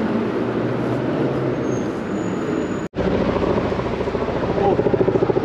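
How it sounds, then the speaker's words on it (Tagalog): Several helicopters flying over a city street, a loud continuous drone with a throbbing rotor pulse that strengthens toward the end, with a brief dropout partway through. "Ang daming helicopter, oh."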